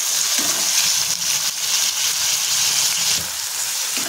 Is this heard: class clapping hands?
no